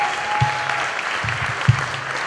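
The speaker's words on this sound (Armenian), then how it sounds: "տեսեք, թե ինչպես են ծափահարում ձեզ այստեղ ներկա ձեր հյուրերը" Wedding guests applaud the bride and groom at the reception, a continuous clapping wash with a few louder low thumps, heard alongside a faint steady tone and background music.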